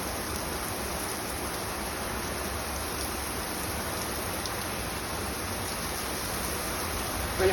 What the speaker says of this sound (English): When it rains in Sydney, it does not muck around.